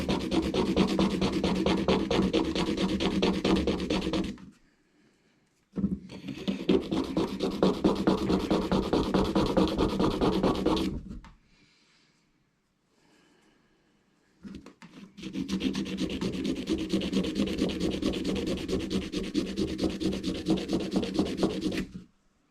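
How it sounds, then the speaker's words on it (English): Steady rasping sandpaper strokes on a primitive wooden fishing hook, close up, in three long sustained bursts separated by brief pauses. "just sanding this down"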